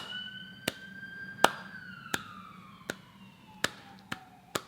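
An ambulance siren wails with long sweeping tones that slowly fall in pitch as it passes, moderately loud, while sharp clicks tap at irregular intervals.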